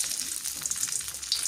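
Tempe frying in hot oil in a home kitchen, with leftover chicken sambal being reheated, gives a steady, dense crackling sizzle with light stirring scrapes, close and continuous, with no voices.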